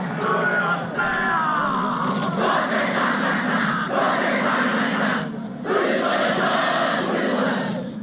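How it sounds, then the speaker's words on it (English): A large crowd chants and shouts a Maori haka in unison, a loud, dense roar of massed voices with rhythmic surges and brief dips, sustained throughout. "Talk about a crowd haka, that one"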